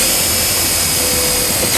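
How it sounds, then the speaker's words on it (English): A steady, loud whirring drone of a powered driver spinning a 1/4 inch socket to sink a self-tapping ground screw while wiring a trailer harness on a 2014 Volvo XC90, continuous throughout. "I'm gonna use a 1/4 inch socket to ground it up."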